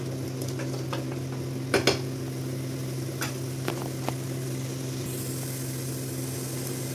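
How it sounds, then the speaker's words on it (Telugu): Masala frying in a pan, a soft continuous sizzle with occasional scraping clicks from stirring, fairly faint and without talk. "దీన్ని కూడా కొంచెం పచ్చివాసన పోయేంత వరకు వేపుకోవాలి."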